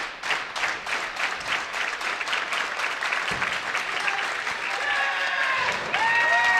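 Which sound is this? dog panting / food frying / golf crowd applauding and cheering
golf crowd applauding and cheering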